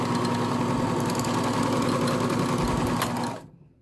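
A serger stitches a neckband onto a t-shirt with a steady, close mechanical hum and rapid needle chatter, then winds down and stops near the end, with no talk.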